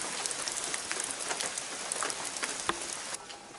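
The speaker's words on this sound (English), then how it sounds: "I've arrived at Mount Robert just as it's starting to rain." Steady rain patters on a surface at Mount Robert in Nelson Lakes National Park, with scattered nearby drips and taps in an otherwise quiet scene.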